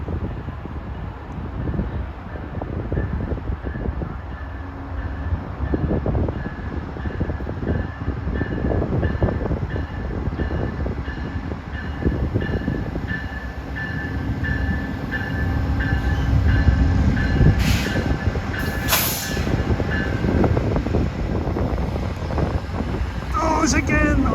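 A train rolls past on CN's Kingston Subdivision at Dorval, Quebec: a steady, loud rumble of wheels and cars with wind buffeting the microphone and faint tonal whines running through, building slightly toward the end.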